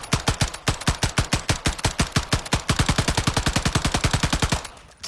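An FN America MRGG-A fires in Call of Duty Modern Warfare III, unloading in a long rapid stream of loud, evenly spaced shots that speed up slightly before stopping abruptly, followed by a faint click.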